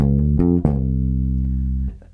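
Electric bass guitar playing a short bluesy lick drawn from the blues scale: a few quick plucked notes, then one long sustained low note ringing out before a soft final pluck, close and clear with no talk.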